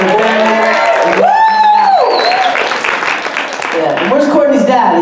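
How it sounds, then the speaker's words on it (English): An audience at a Philly comics and cosplay day in 2018 claps and cheers, with one whooping voice rising over steady applause while someone talks through part of it. "round of applause for Courtney for putting this together."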